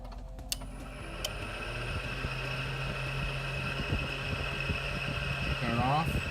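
A Mitsubishi Eclipse 2G DSM 420A engine idling after a new idle air control valve is fitted, a steady low hum with a faint whine rising near the end after a couple of sharp clicks.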